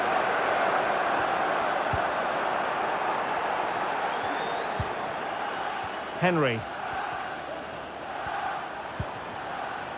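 Steady roar of a stadium crowd in the EA FC 25 football video game, a continuous broad wash of cheering that holds through the clip with a brief whistle-like rise midway, while a commentator speaks over it.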